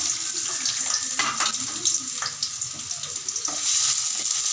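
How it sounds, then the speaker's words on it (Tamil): Onions sauté in sesame oil with a constant close hiss and crackle, broken by a few soft stirring scrapes, and the sizzle grows a little louder toward the end. "வெங்காயத்தை நல்லா வதக்க வேண்டும்."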